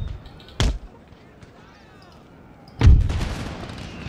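Flanking musket fire in Empire Total War: a sharp volley crack, then a quiet pause with faint battlefield noise, followed by a second, heavier and closer volley that rumbles on.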